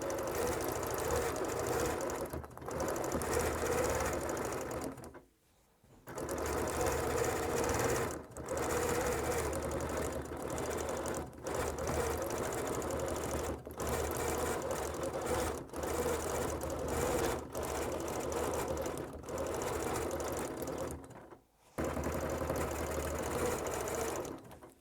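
A sewing machine quilting fabric with no batting, its needle clattering in long rapid runs close up, broken by a few brief pauses, with no talk.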